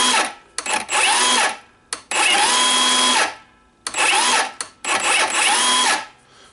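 A faulty Milwaukee M18 brushless circular saw, with a suspected bad controller, whirs loudly in four separate motor bursts broken by short silent gaps.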